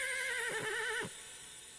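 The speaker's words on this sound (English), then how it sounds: "Alright, that is the coolest horse ever." A cartoon horse in an anime gives one loud, wavering whinny lasting about a second, then trails off into quiet background.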